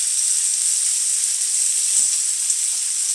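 Beef pieces for a hearty stew sear in hot oil in a pan, giving a steady, close, bright sizzle and hiss that holds evenly throughout with no talking.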